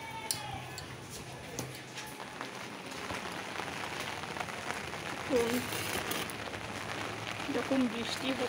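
Steady rain patters on a rooftop terrace with potted plants, a dense, even hiss of drops with occasional louder ticks, while someone talks over it now and then.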